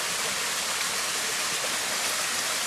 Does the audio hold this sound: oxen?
no